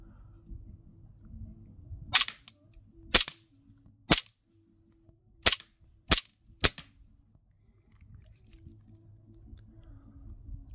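A CO2-powered 4.5mm BB 1911 pistol fires six sharp, loud cracks in an uneven string, each shot snapping into a cardboard box target, with quiet handling rumble before and after.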